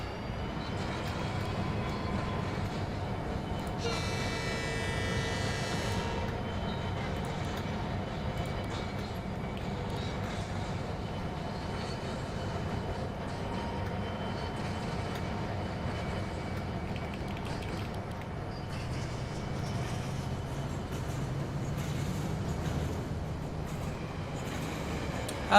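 A model train running in the Rolling Line VR game gives a steady rolling rail rumble with rhythmic clatter throughout, a brief brighter whistle-like tone near the start, and faint talk now and then in the background.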